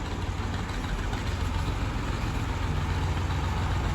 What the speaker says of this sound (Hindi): ये हमारा ट्रैक्टर और मशीन आ गई है, जिससे इधर लेंटर की भराई शराई होनी है सारी